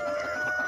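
Layer hens clucking on a farm, a brief continuous burst of close, fairly loud fowl calls.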